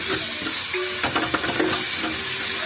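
Tomatoes frying and stirred in a hot pan, a steady loud sizzle with scraping stirring strokes running throughout, close and continuous, no voices.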